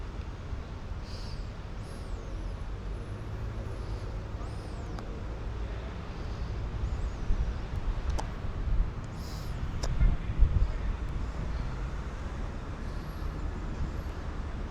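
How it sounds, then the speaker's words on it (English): Heavy trucks and general road traffic rumble through Seven Sisters in North London in a steady, dense low roar, with a few louder swells as vehicles pass nearby and wind noise mixed in. "Got a lot of trucks running through here in North London."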